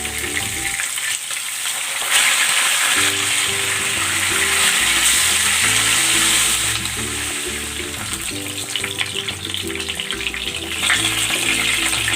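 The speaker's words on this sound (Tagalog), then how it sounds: "Ipiprito ko muna itong isda." Fish sizzles steadily in preheated cooking oil in a pan, a loud continuous frying crackle that runs throughout, with soft background music underneath and no talking.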